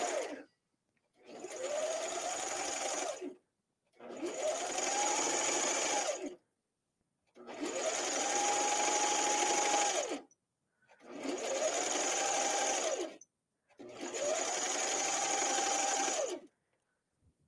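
A sewing machine stitches knit fabric in five separate runs of a few seconds each, a steady close whirring rising and falling in pitch at the start and end of every run, with silent pauses between.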